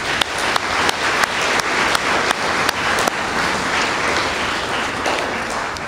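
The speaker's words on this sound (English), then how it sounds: "let's give ourselves a round of applause" Audience at a fire department employee recognition ceremony clapping, a broad steady wash of applause with sharp individual claps cutting through at fairly regular intervals, close and moderately loud.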